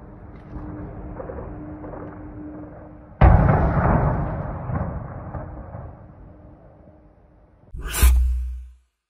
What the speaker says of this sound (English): Multiple explosions and fires were recorded in the target area